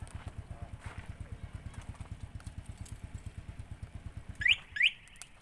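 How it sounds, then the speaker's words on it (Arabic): A motorcycle engine that started up on its own idles with a steady, rapid low thumping throughout, and two short high chirps sound near the end. "الموتور دار مارش بوحدو"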